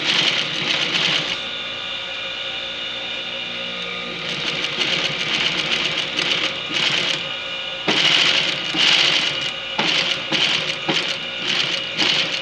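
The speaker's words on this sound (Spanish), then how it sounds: "Entonces cosemos por la línea de una de las que marcamos, vamos ajustando el cuero." A sewing machine stitches leather for a handbag, running in steady rapid bursts with brief pauses and stops, close and fairly loud with no talk over it.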